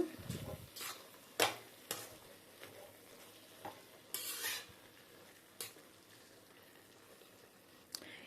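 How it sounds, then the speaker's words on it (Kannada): Peanut and sesame powder being stirred into an eggplant curry in a pan, with scattered scrapes and clinks of a spoon against metal over a faint background sizzle, in irregular bursts. "ಇವೆರಡನ್ನು ಹಾಕ್ಕೊಂಡ ನಂತರ ನೀಟಾಗಿ ಮಿಕ್ಸ್ ಮಾಡ್ಕೊಳ್ಳೋಣ"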